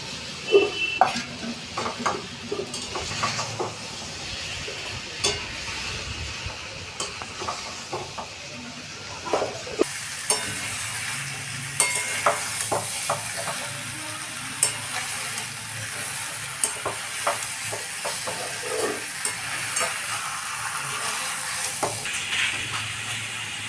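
Potato and pumpkin frying in a pan while being stirred, a continuous sizzle with repeated scraping and clinks of a utensil against the pan, fairly close and without talk.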